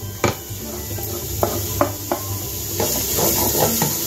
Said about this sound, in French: on va ajouter l'oignon émincé, ainsi que la gousse d'ail